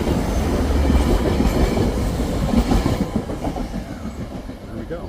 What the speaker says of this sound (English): A train is approaching the crossing.